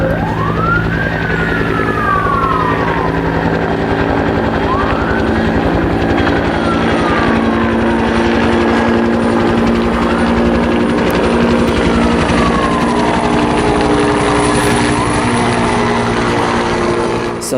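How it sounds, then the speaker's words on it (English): A loud helicopter thrums steadily close overhead near a house fire, rotor noise filling the scene while a siren wails up and down in the background. "the helicopter kind of swoops in"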